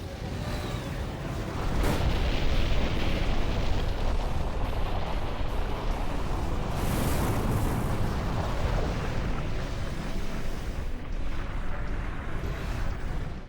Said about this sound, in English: Those cannons will rip you to shreds. Focus on evading their fire.